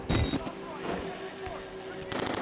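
Gunfire erupts in the horror video game Outlast: Whistleblower, a few sharp shots with a burst near the start and another near the end over ambient game sound.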